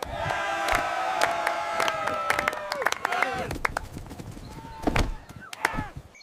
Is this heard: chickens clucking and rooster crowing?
no